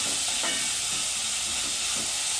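Sliced onions, three of them, sautéing in hot oil in a pan for a coconut-milk egg curry, giving a steady broadband sizzle and hiss with faint stirring scrapes throughout, no voices.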